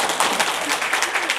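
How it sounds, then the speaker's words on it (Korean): An audience at a morning business meeting lecture claps in a dense, loud, close burst of many hands that lasts about a second and a half. "박수를 치시려면 확실하게"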